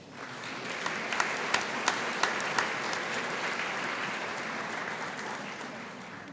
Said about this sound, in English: let's give these freshmen a round of applause